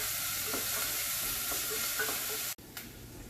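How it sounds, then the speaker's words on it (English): Chopped onions fry in a pan while being stirred, giving a steady sizzle with soft scraping strokes that cut off abruptly near the end, leaving quieter background. "We have been stirring and cooking the onions till we lose the raw smell and the color changes."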